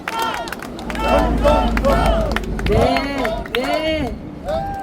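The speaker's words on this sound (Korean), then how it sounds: "우리 애국자님들께서 정말 큰 박수 계속해서 쳐주시고 계십니다" Applause and crowd noise from supporters at a Korean political rally calling for an election-fraud investigation, running steadily beneath a loud amplified voice speaking over it.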